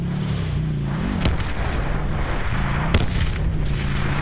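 Mesh mines detonating in a video game firefight, two sharp booming blasts about 1.7 seconds apart over a steady engine-like drone and game noise.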